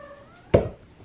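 A house cat lets out a single short meow, close by and fairly loud, against a quiet room.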